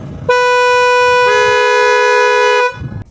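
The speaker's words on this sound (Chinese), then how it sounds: "而且喇叭的声音真的非常洪亮" A deep press on the Like 318 250T scooter's horn gives a loud, sustained electronic honk that swells stronger partway in and holds for over two seconds, with quiet street noise before and after.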